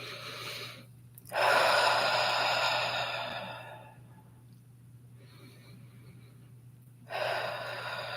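Slow, deep breaths: two long, loud airy exhalations near the microphone, separated by a quieter pause, over a steady low hum, with no talking.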